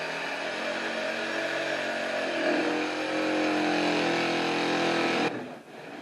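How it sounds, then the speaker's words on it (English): A jigsaw cuts through a wooden board for a router table, making a loud, steady buzzing whine that holds for about five seconds, shifts slightly in pitch midway, then cuts off abruptly near the end. "Then I'm going to cut that away with a jigsaw."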